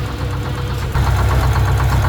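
Greyhound Scenicruiser bus engine idling steadily up close, a low rumbling drone with a faint knock that grows slightly louder partway through.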